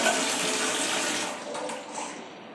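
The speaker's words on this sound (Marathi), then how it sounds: "हे बघा हे भांडे घासतीये" Dishes are washed in a household sink under a steady stream of running tap water, a continuous loud rushing that eases slightly toward the end.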